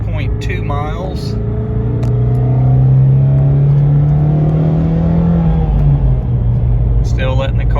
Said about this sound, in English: Still letting the car warm up.